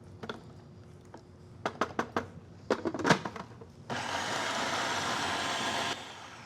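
A food processor chopping salad ingredients: several short sharp pulses in quick succession, then the motor runs continuously for about two seconds, loud and close, before cutting off.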